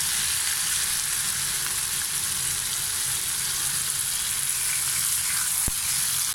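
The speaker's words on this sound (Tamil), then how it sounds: "இனி இந்த மாதிரி திருப்பி திருப்பி போட்டு ஃப்ரை பண்ணி எடுக்கணும்" King fish pieces fry in a pan with a steady, close hiss of hot oil and one brief clink partway through, and no talking.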